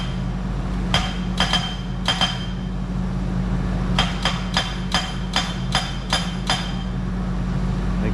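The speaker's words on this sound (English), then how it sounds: "Got a nice little Kubota with a hammer on it." A small Kubota with a hammer attachment pounds locust fence posts during a horse fence install, sharp metallic strikes in a few spaced hits then a faster run of about eight, over a constant low engine drone.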